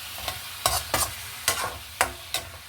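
Onion, ginger, garlic and a salmon head being stirred in hot oil in a pan for sinigang, with several distinct scraping stir strokes over a low sizzle, close and alone.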